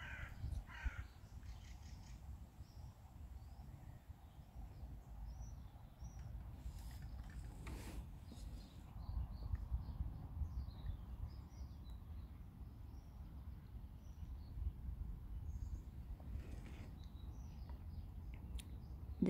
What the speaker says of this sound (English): So many different birds here.